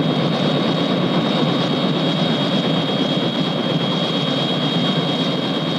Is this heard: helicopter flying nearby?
yes